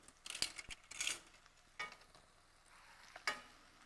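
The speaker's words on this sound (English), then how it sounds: "now I'm searing the edges" Pot roast edges searing in a hot pan, faint sizzling under several sharp scrapes and clinks of a utensil against the pan, spaced irregularly across the moment.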